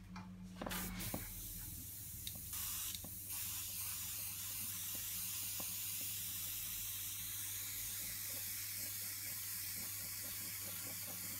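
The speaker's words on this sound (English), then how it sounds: "I'm going to sort out this airbrush now because the noise it's making" An airbrush sprays ink with a continuous close-up hiss, starting with a couple of short bursts before settling into a steady, even spray.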